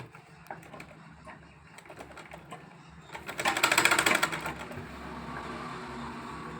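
A sewing machine stitching a plain cotton petticoat, soft, quiet ticking at first, then a louder, faster whirring burst of stitching that dies back down to quiet mechanical clicks.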